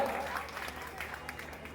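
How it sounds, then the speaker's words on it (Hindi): An audience at a Hindi literary gathering honoring a nationalist poet applauds for a group of meritorious children, with steady clapping and a voice speaking over it. "एक बार जोरदार ताली से उन सब बच्चों को आशीर्वाद दीजिए"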